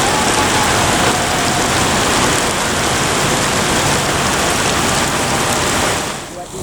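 Heavy rain pours in a dense, loud, continuous wash of broadband hiss that holds steady before dropping away at the very end.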